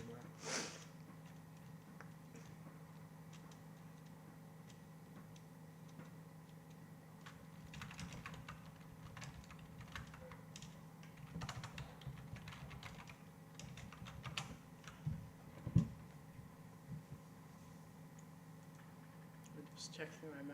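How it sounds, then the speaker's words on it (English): Keys clatter on a computer keyboard in quick, uneven bursts with short pauses, close by and fairly soft over a low steady hum. "This keyboard is surprisingly good"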